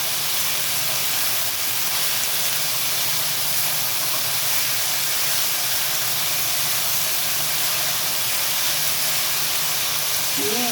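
Mixed vegetables sizzle and crackle in hot oil as they are stirred, a steady, dense hiss that runs loud and unbroken from start to finish.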